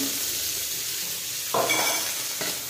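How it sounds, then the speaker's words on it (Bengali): Onion stalks sizzle steadily as they fry in a pan, with two louder bursts of stirring and scraping near the end and no talk. "পেঁয়াজকালিগুলো এরকম হালকা সিমের মতন 8-9 মিনিট নেড়ে নেবো।"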